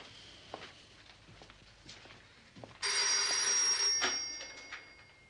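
A telephone rings loudly with a bright electronic trill, starting partway through and sustaining for over a second before fading, set against a quiet indoor room with faint movement.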